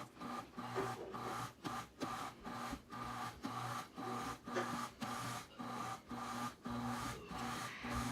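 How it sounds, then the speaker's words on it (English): A stand mixer pulses American buttercream in a regular rhythm of short bursts, about one per second, each a close, moderately quiet whir that rises and drops. "I'll start pulsing the mixer"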